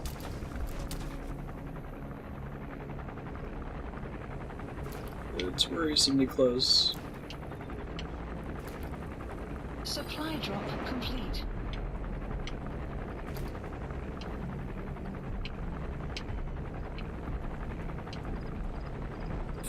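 Helicopter in the video game Metal Gear Solid 5: The Phantom Pain, a steady low rotor drone running throughout under a player's talk, with brief louder game effects and in-game radio voice.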